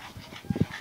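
Dogs at a family home, heard as faint short huffs and whimpering pants at close range, with two slightly louder low yips near the end.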